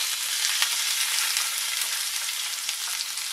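Finely chopped onion sizzles steadily in hot oil with cumin seeds, a loud, continuous crackling fry with no voices over it.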